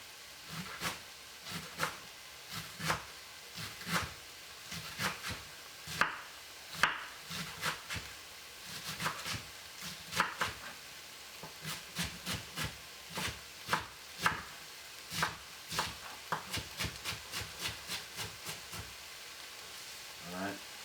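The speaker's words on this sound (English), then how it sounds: "Now we're going to cut up some cabbage. Alright, don't cut up a cabbage too thick" Knife chopping cabbage finely on a board, a long run of sharp rhythmic cuts, sometimes quick bursts, fairly close and moderately loud, with faint kitchen background and no speech.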